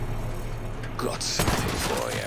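Gunfire in the Western tactics video game Hard West 2, a short burst of shots about midway through, mixed with game ambience and under a voice.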